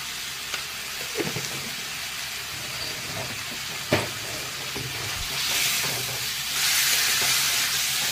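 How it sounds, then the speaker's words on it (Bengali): Pea dhoka masala stir-frying in a pan, a soft steady sizzle with faint scraping stir strokes and an occasional clack, the hiss swelling brighter toward the end. "কষাই ভালো করে, টাইম লাগবে কষাতে।"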